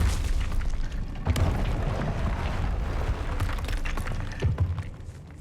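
The Confringo fire spell in Hogwarts Legacy goes off with a deep booming blast, followed by rumbling thuds and a second heavy impact near the end, with no talking.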